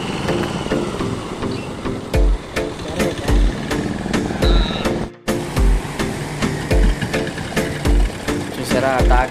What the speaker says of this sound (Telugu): చూసారా ఆ ట్రాక్టర్ వచ్చి ఆ తాడు దాన్ని కట్టిన తర్వాత